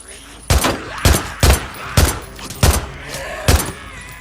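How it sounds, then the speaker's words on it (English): Six heavy gunshots ring out in Days Gone, each a sharp, loud bang with a short decaying tail, spaced irregularly about half a second to a second apart. "Guns are quite fun, and there are plenty to choose from. I enjoyed the shooting mechanics."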